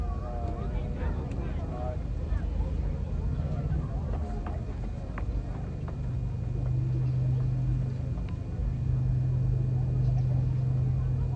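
A B-25 bomber at the Scottish International Airshow gives a steady, distant piston-engine rumble drifting downwind, continuous throughout with a low droning tone, under a commentator talking.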